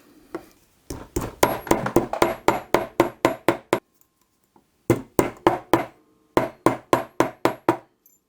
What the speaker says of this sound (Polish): Młotkiem na kowadełku wyprostuję tą blaszkę